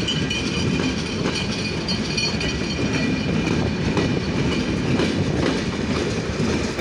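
Two passenger trains, the Chilahati Express and the Simanto Express, passing each other at Saidpur station, with a steady, loud rumble of railcars and rhythmic clatter of wheels on track throughout.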